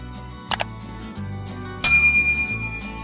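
A bright metallic notification bell ding rings out and lingers, following a brief click, over a low steady background hum.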